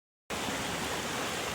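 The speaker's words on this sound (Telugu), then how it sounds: "ఇది పెద్ద వాటర్ ఫాల్స్" A large waterfall pours down in a steady, dense roar that starts abruptly and then holds at an even level, loud and broadband with no voices.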